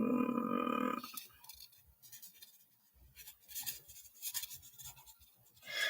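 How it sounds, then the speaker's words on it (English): Pen scratching across paper in short bursts and strokes, close and fairly quiet, as something is written down by hand after a brief louder noise at the start. "Let me write that down."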